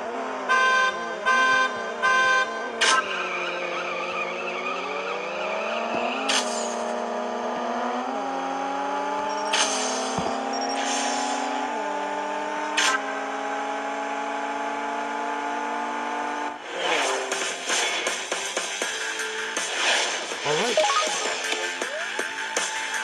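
An Audi races in the CSR Racing video game, its engine rising in pitch through several gear shifts, with sharp synthetic game effects and a denser roar near the end.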